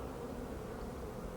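Honey bees buzz around an open hive colony while a queen is being marked and installed. A soft, continuous low hum of many wings lasts about a second and a half.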